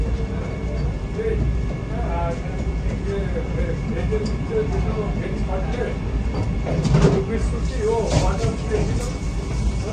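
Inside the Vande Bharat Express running from Howrah to New Jalpaiguri, a steady low rumble of the moving train fills the carriage, with faint rattles and knocks and no speech.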